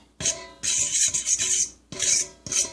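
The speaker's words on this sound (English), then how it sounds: "I need to grab a fork. And we're going to whisk it together." A fork whisks a mixture with paprika in a bowl, giving close, brisk scraping bursts with short pauses between strokes, alone without talk.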